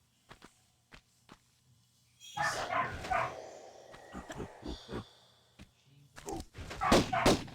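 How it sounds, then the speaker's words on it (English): A full-size Golden Retriever barks outdoors in a few bursts, heard at a distance and fairly faint, with sharp ticks and knocks between them. "She barks regularly non-stop whenever they let her out."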